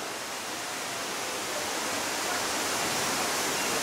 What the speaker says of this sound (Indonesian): Air terjun Dlundung berada di kawasan Tretes